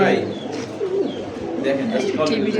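A pair of fancy pigeons cooing close by in a low, throaty rolling call, heard under someone talking.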